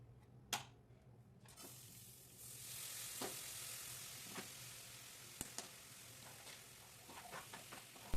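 Rice dry-roasting in a pan for biryani gives a low, steady sizzle with scattered scraping stir clicks and a few sharp taps, fairly quiet and with no voices.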